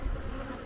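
Honeybees at an opened hive during July queen caging against varroa, a steady close-up buzzing hum of many bees filling the short moment.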